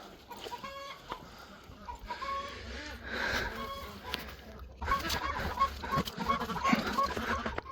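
Ducks in a barn, several birds quacking and honking in scattered bursts amid shuffling and clatter, moderately close, with a person talking over them at times.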